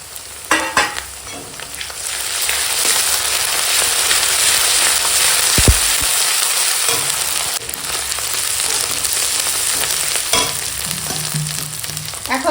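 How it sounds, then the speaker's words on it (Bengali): Sliced onion and green chili sizzle in hot oil with whole spices in a home kitchen, a loud continuous hiss with a few sharp stirring knocks and clinks of a spatula against the pan. "ফোড়নের সঙ্গে এখন পেঁয়াজ কাঁচা লঙ্কাটা এরকম ভাজা হয়ে গেছে"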